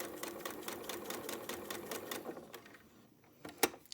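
A sewing machine stitches tiny quilt petal squares corner to corner, a quick steady rhythmic clatter of needle strokes up close that slows and stops, followed by a few soft handling clicks.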